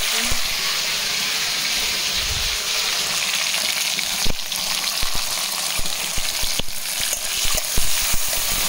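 Cumin seeds and bay leaf sizzle in hot oil in a wok, a steady broadband crackle throughout with occasional sharper pops and clinks near the end.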